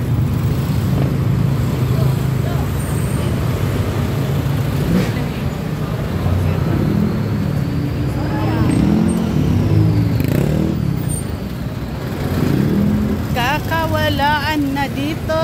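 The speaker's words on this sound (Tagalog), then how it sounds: "Sobrang dami ng motor, pati daan may motor na." Crowded street traffic in Quiapo, packed with motorcycles and vehicles: engines rumble and rev steadily close by, with passing vehicles and some voices in the busy mix.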